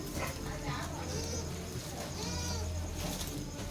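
Goats bleating at a goat farm near Kovilpatti in Thoothukudi district, with repeated overlapping calls from several animals close by under steady background noise; someone speaks over parts of it.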